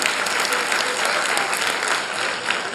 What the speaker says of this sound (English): Yes, huge round of applause for him.